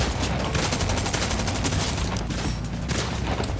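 Rapid sustained gunfire in the video game Fortnite, dense bursts of shots packed together, loud and continuous throughout.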